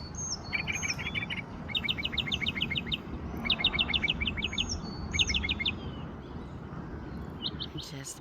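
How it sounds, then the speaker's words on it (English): A wild bird sings repeated quick trills and chirps at moderate distance outdoors on a morning homestead property, over a steady bed of insect buzz and faint ambient noise. "Beautiful bird."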